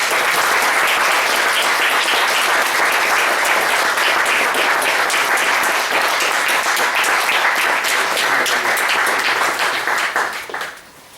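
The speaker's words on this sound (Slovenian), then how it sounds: "Jaz bi lepo zahvalil za tole ploskanje" Literary talk audience giving sustained applause, a loud, steady wash of many hands clapping for about ten seconds before quickly tapering off at the end.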